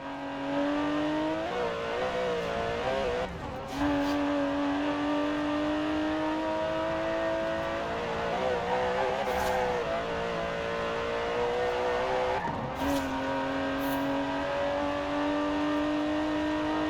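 A British Racing Green Aston Martin DB11's 5.2-litre twin-turbo V12 in Forza Horizon 4 drones steadily and loud at cruising revs, its tone rising and falling, with a couple of brief dips as the throttle lifts or gears change.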